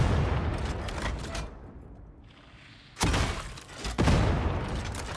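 Heavy stubber fire in Darktide, the video game, roars in loud, dense bursts, drops into a quieter lull, then erupts again with sharp impacts near the end.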